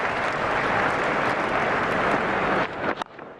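A crowd at Lord's applauds during a 2002 England versus India one-day cricket match, a loud, dense wash of clapping that holds steady and then drops off abruptly near the end, with no talk.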